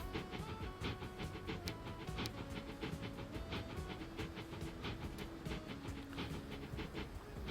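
A train runs on rails in the game Transport Fever 2, with a steady rolling rumble and regular clickety-clack beats over a continuous hiss.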